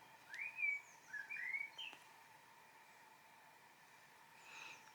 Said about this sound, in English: I hope you can hear the birds there.